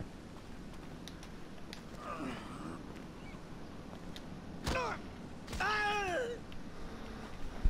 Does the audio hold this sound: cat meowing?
yes